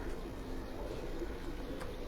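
Kasuri pigeons cooing on a rooftop, a low steady murmur of soft coos against a constant background hum, with no clear individual calls standing out.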